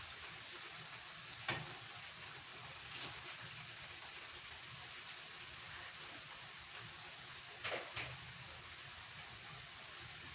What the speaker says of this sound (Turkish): Şöyle soğanım da kavruldu güzelce.